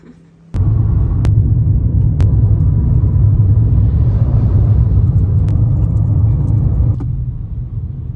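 Car engine rumbling while driving, a loud, steady low drone that starts abruptly after a brief quiet moment and holds constant, with a few faint clicks over it and no talking.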